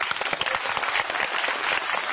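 Steady clapping comes from a studio audience on the stands at a Norwegian TV debate show, a continuous crowd applause of even loudness with no talk over it.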